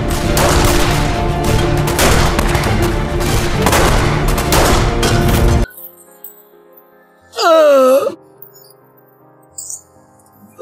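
Sustained volleys of gunfire crack out after an order to shoot, dense and loud for several seconds, then give way to a wailing cry and quieter sounds.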